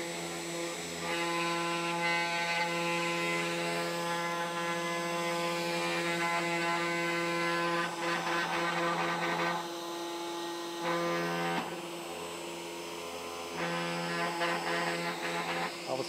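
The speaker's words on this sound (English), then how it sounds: "Spindle." A CNC 3018 Pro desktop router's 200W spindle runs steadily up close, a continuous tonal electric whine with strong harmonics that holds throughout, briefly dipping and returning mid-run.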